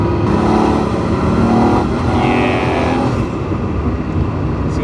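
A 1994 Porsche 911 Turbo 3.6 engine roars at high revs under boost, a loud, steady, droning exhaust note heard from close by with a slight shift in pitch midway.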